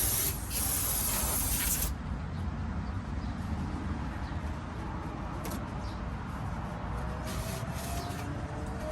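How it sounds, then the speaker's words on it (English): Brake cleaner sprays onto a Honda Civic engine in a loud, steady aerosol hiss, close up, cutting off after about two seconds and followed by quieter hissing and faint rubbing. "I'm just going to go ahead and spray it down again."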